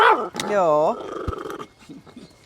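A dog barks and growls in a short, loud burst close by inside a campervan, a drawn-out harmonic yelp followed by lower rough noises, with people talking around it.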